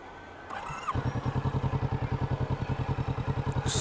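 A 2022 Kawasaki Vulcan S motorcycle fires up after a brief crank and settles into a steady, loping idle, its rhythmic low thumping close and clear.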